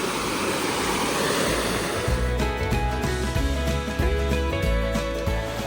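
Water rushes continuously over a small earthen dam on a stream beside farm fields in the Konkan countryside, a broad steady roar heard close, with some wind buffeting on the microphone.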